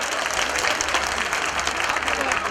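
Audience applause at a stage performance event, a brief steady wash of clapping from a crowd.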